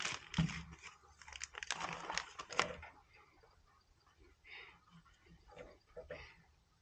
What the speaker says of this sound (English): I just put it in a plastic bag and keep it up here out of the way